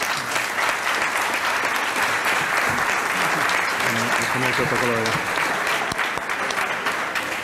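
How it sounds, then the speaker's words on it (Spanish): Applause from the crowd at a 20th-anniversary association gala, a thick, continuous clatter of many hands that stays loud throughout, with a few voices rising faintly through it. "Un aplauso."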